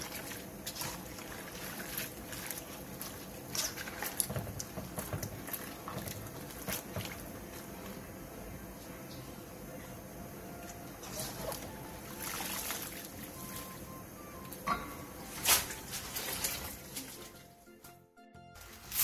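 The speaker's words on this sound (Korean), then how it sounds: "데쳐준 후 바로 찬물에 헹궈 물기를 충분히" Blanched sweet potato stems are rinsed in cold water, with a long stretch of close swishing, splashing and trickling water that fades near the end.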